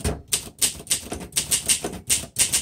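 Typing on a 1957 Olympia Deluxe portable typewriter, a run of crisp, evenly spaced mechanical key strikes, about eight sharp clacks close up and loud, with no talk.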